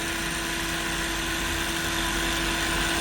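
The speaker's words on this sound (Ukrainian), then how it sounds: "Вмикається перший двигун, от вмикається, так? і другий двигун. Це оті от сверла. Легенько починаю е, опускати сверло." The motors of an SPS-2-8 boring machine run with a steady, loud mechanical hum and a constant tonal whine as the drill is lowered, with no talk over it.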